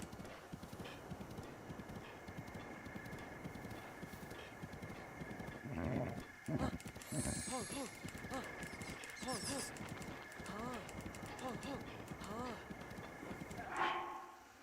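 Hooves clip-clop in a steady rhythm as a horse runs in a video game horse minigame, mixed with other game sounds throughout.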